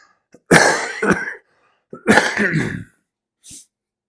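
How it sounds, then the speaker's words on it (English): Two rough, bursting coughing fits, each breaking into several hacking pulses, followed by a short, softer cough; loud and close, with no talking. "I really apologize about the cough, guys."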